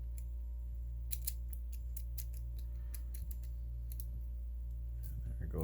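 Small metal keys from a Sparrows master key kit click and scrape inside a pinned lock, a close, faint series of irregular sharp ticks and rattles over a low steady hum.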